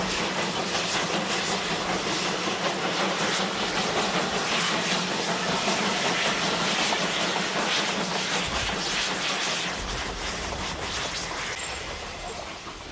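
German Kriegslok steam locomotives working in pairs on a steeply graded mountain branch line, a steady loud roar of steam and rolling rail noise that stays close throughout, easing slightly near the end.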